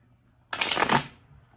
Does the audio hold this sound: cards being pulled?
yes